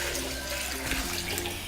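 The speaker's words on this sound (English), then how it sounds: "I'm going to add 1 liter of water." One liter of water pours steadily into a blender jar for making tiger nut milk, a continuous splashing gush with no pauses and no voice over it.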